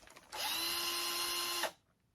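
A handheld power drill whirs steadily for about a second and a half at close range, spinning up and then cutting off abruptly, with no talk over it.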